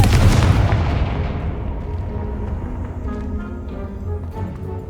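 A Confringo fire spell explodes in Hogwarts Legacy, a loud booming blast that rolls into a long, fading rumble with crackling debris and no talk over it.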